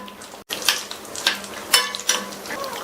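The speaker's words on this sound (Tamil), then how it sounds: "இதுல 10-15 போல முந்திரி சேர்த்துக்கலாம். சேர்த்த இந்த முந்திரி எல்லாம் லைட்டா அதனுடைய கலர் மாதிரி வறுபடட்டும்." Cashews frying in melted ghee for Tamil payasam, a soft continuous sizzle with intermittent scraping and stirring clinks from a pan, close and steady, no talking.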